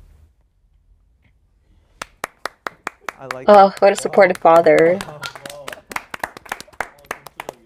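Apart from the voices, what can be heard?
people clapping hands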